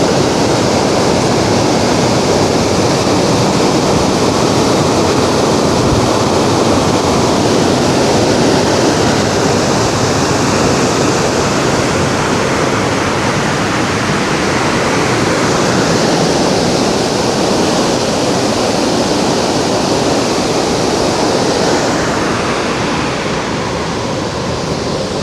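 Montmorency Falls in Quebec City roars close by as a loud, unbroken wash of water noise, with some wind buffeting the microphone throughout and no voices.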